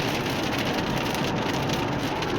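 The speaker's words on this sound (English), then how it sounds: "a lot of rain coming down now, all of a sudden." Heavy rain pours down suddenly outside a casino, a dense, loud, unbroken hiss and patter that fills the whole moment with no voices.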